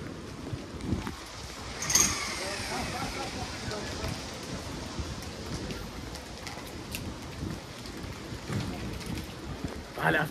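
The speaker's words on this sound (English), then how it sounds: "Rain today, right after rain now." Rain falls steadily in Brussels, a soft continuous patter and hiss on surfaces outdoors, fairly faint with a few louder splashes.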